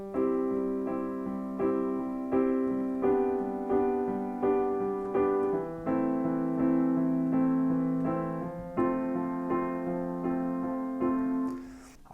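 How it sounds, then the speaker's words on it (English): Piano plays the main chord progression of a song, repeated sustained chords struck in an even rhythm, close and clear with no voices over it. "let me just show you that main chord progression now"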